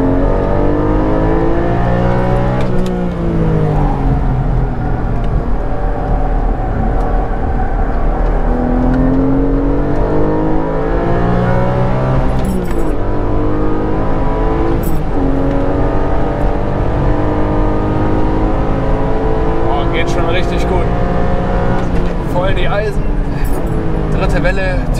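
A Porsche Cayman/Boxster GTS 4.0 six-cylinder is driven hard and drifted on a race track; the engine note climbs and drops repeatedly through gear changes, loud and sustained.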